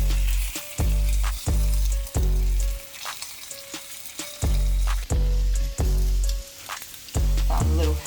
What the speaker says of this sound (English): Drench it into that sauce, into that oil, and you're gonna put it to cook right on there.